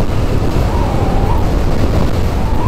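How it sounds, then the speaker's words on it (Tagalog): Strong wind buffets a microphone on a Honda PCX 160 scooter ride along the coast in Sorsogon, a constant loud roar with no breaks. "Taas lang ng hangin."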